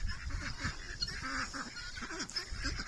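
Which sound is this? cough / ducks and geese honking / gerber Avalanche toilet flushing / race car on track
ducks and geese honking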